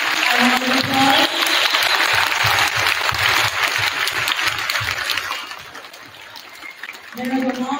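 Audience applause at a middle school Veterans Day assembly: a dense, loud wash of clapping through most of the clip that thins out toward the end, with voices mixed in.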